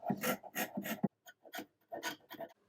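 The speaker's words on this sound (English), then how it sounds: "just using a little scraper now to get into the areas that I couldn't get into with the other scraper" A small hand scraper rasps over old wood in short, close strokes, a quick run of four dry scrapes followed by a pause and a few lighter, scattered passes.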